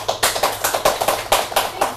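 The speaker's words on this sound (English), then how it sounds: "so everybody give her a nice round of applause" Scattered hand claps at a show welcoming a new host, a handful of people clapping in an uneven rhythm for about two seconds, close and moderately loud.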